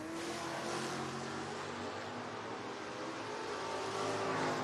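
A 1987 Ford Mustang and a 1970 Chevrolet Chevelle run a drag race, with dense engine roar holding loud and steady and building slightly toward the end.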